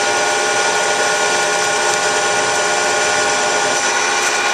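A metal lathe taking a fifty-thousandths cleanup cut on a one-inch diameter screw jack cap, a steady loud mechanical whir and hiss that runs unbroken and close throughout, no voices.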